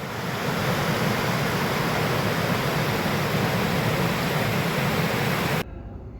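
Rushing water where the River Lee meets the River Lee navigation at Hartham Common, Hertford, a loud, continuous roar of broad noise that cuts off abruptly near the end.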